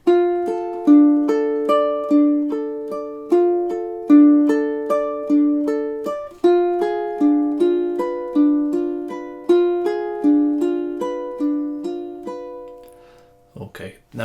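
Measures 13 and 14 of Bach's Prelude in C ring out on a classical ukulele as evenly paced plucked arpeggios, near and bright, with a short break midway and a voice starting briefly at the close.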